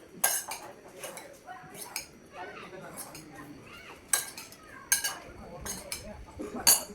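A spoon clinks and scrapes against a bowl while chilli flakes, oregano and chaat masala are mixed for a sandwich filling, sharp metallic taps recurring irregularly at close range under quiet background noise.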